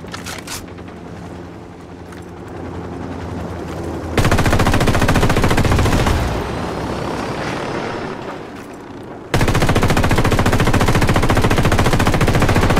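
A machine gun rattles in sustained loud bursts in Ghost Recon Wildlands, two long continuous streams of rapid fire with a quieter stretch between, set against a whirring helicopter-like drone.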